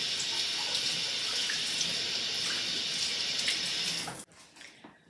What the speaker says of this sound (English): So now that they're peeled, I'm going to rinse them again.